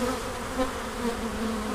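Honeybees in a top bar hive make a close, constant buzzing drone that stays steady throughout.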